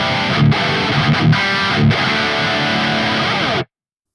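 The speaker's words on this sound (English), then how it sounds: "Pushing the treble dial will enhance these high mid frequencies and create a harsher," Heavily distorted electric guitar through an Archetype Gojira X amp with the treble pushed, giving a harsh, bright high end; loud, dense riffing with brief palm-muted stops, played alone up close.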